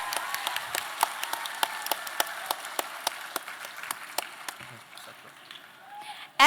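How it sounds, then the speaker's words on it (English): An audience claps for a guest professor at a talk, scattered sharp individual claps ringing out in a moderate, uneven patter that thins toward the end, fairly quiet and roomy. "can we please have a huge round of applause for him once again"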